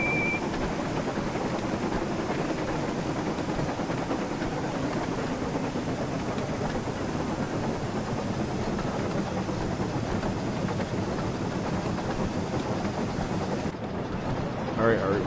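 The engine of Percy, a steam engine in a Thomas and Friends Sodor train video game, runs in a continuous dense chuffing rumble, steady and loud throughout, with speech mixed in.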